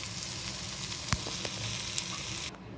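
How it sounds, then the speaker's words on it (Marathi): Masala spices roast and sizzle in a hot pan for Sunday misal pav, a steady close frying hiss broken by a few sharp clicks and scrapes of stirring. "अशा प्रकारे मसाला भाजून घ्यायचा आहे"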